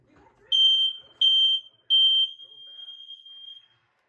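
A household smoke alarm sounds during a test with three loud, piercing electronic beeps, the last held for almost two seconds, preceded by a brief murmur of speech.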